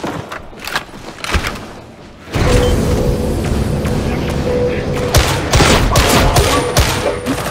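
Artillery bombardment in Warhammer 40,000: Darktide lands as a heavy, sustained barrage of booms and rumbling impacts. Sharper thumps and combat noise come before it, and game voices shout over the din.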